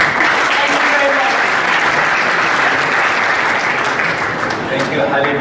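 An audience claps loudly and continuously at a conference opening, a dense, even wash of applause that holds at full volume throughout.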